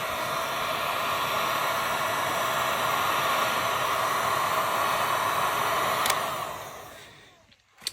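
A heat gun blows a steady, loud hiss of hot air onto the plastic of a Porsche Cayman 981/718 carbon engine cover, running continuously, then cutting off and spinning down near the end.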